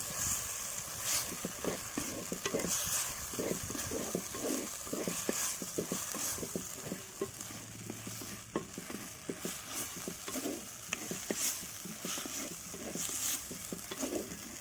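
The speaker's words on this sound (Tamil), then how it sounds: "இஞ்சி பூண்டுனுடைய பச்சை வாசனை போகிற அளவுக்கு நல்லா கிளறி விட்டுக்கலாம்" A spoon scrapes steadily through ginger-garlic paste, onion and tomato frying in a pan for chicken gravy, quick rhythmic stirring strokes over a constant close sizzle, with no talk.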